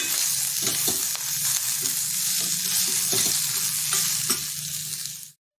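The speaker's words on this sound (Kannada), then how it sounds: "ಆ ಪನ್ನೀರನ್ನ ಇದಕ್ಕೆ ಹಾಕ್ಕೊಂಡು ಫ್ರೈ ಮಾಡೋಣ" Paneer frying with spices and green chilli powder in a pan: a loud, continuous sizzle with regular light stirring taps, ending abruptly.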